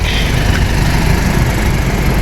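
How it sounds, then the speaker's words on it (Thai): A pickup truck engine idles close by, a steady low rumble that holds even and unbroken throughout. "เครื่องยงเครื่องยนต์เดินนิ่งเหมือนเดิม"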